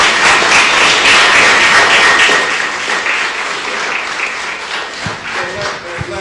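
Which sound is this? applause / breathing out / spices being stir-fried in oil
applause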